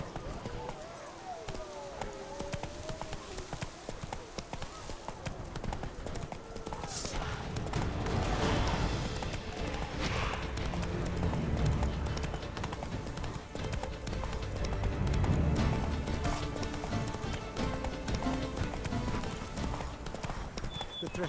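Roach, a horse in The Witcher 3 Blood and Wine, gallops in a rapid, continuous clip-clop of hooves that grows louder and busier partway through. Brief talk is heard early on, along with other game sounds.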